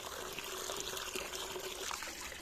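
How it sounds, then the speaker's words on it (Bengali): Diluted fermented oil-cake fertilizer water pours in a home garden as a faint, steady trickle and splash, with no voices. "খোল পচা জল সব রেডি করা হচ্ছে।"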